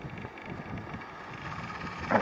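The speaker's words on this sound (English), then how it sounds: "Still a bit windy." Wind gusting over an open stretch of the Galloway coast looking across to the Cumbrian coastline, a steady low rumbling buffet on the microphone that swells slightly louder at the very end, with no voices.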